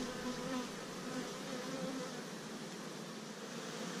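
Honey bees buzz at a beehive on Miyajima Island, a steady close drone of many wings with slight shifts in pitch and no voices.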